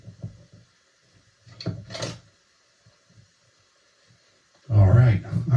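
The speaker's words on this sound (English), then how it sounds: "Hang on while I open the door." A house side door is opened, giving a few soft knocks and latch clicks at moderate level, followed by louder close rustling and handling noise.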